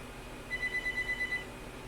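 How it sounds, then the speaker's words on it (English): A telephone rings in the game Subnautica, a short burst of rapid, evenly spaced electronic trills lasting under a second, moderately loud and alone against a low background hum. "The phone again, my god."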